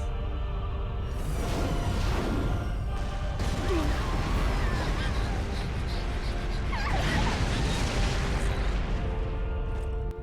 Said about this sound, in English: don't run into the explosions, idiot